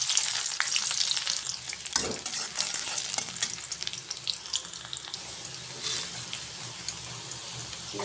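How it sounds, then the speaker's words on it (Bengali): Onions fry in hot oil for a prawn curry, a close, continuous crackling sizzle with a brief spatter and scrape partway through. "তরকারি বসানোর জন্য তেলের মধ্যে পেঁয়াজ দিয়ে"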